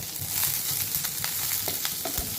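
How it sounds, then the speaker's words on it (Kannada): Coriander and curry leaves frying in a pan make a loud, close, crackling sizzle with scattered sharp pops and scraping stirs throughout, with no voices. "ಸ್ವಲ್ಪ ಕೊತ್ತಂಬರಿ ಸ್ವಲ್ಪ ಕರಿಬೇವು ಎಲ್ಲ ಹಾಕೊಂಡಿದ್ದೀನಿ ಸೊ ಇದನ್ನು ಸ್ವಲ್ಪ ಫ್ರೈ ಮಾಡ್ತೀನಿ ನಾನು"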